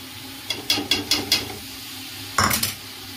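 Spoon stirring sour yogurt into a cooked, fried spice masala in a metal pot, with several quick scraping clinks in a row, a short pause, then one louder scrape, close and alone.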